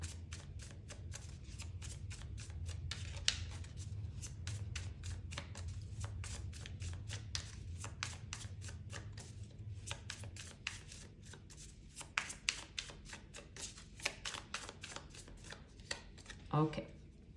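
Tarot cards are shuffled in a long run of crisp, rapid riffling flutters close to the mic, with steady low hum beneath and a few sharper snaps near the end; a voice talks faintly over it.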